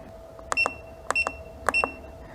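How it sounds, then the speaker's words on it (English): A Kingbolen BM520 battery tester gives three pairs of sharp electronic beeps at a steady interval, close and clear over a faint background hum. "the first thing I need to do is turn that beep off"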